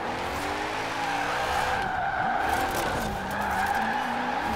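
A BMW M5 E39 in a video game drifts around a corner on Fortune Island, tires squealing in long, wavering screeches over a steady engine drone, loud and close with no talk.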